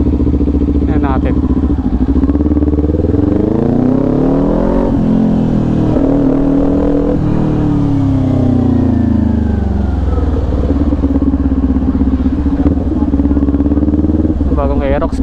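A Kawasaki Ninja 400 with an SC Project exhaust revs close by, its engine rising and falling through several throttle blips over a constant loud idle, with a passing vehicle swelling at the ends and a voice now and then.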